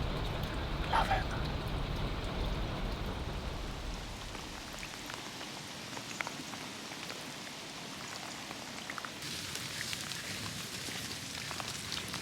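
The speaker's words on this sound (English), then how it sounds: "listening to the rain is by far the best way to wake up in the morning" Steady rain patters on surfaces outdoors in the early morning, a continuous soft hiss with scattered drips, heard close and fairly quiet.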